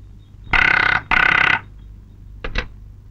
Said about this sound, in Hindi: ठकराल, ऑफिस तुम्हारे लिए फोन है।